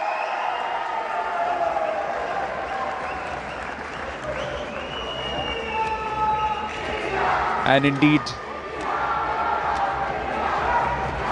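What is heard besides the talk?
crowd cheering at a boxing bout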